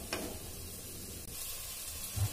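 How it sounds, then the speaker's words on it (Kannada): Mashed tomatoes fry in a pan with a soft steady sizzle, joined by a few faint scraping stirs and a light clink near the start, all quiet and close. "ಅದಕ್ಕೆ ಚೆನ್ನಾಗಿ ಇದನ್ನೆಲ್ಲ ಮ್ಯಾಶ್ ಅದೊಂದು ಫ್ರೈ ಮಾಡ್ಕೊಳ್ಳೋಣ"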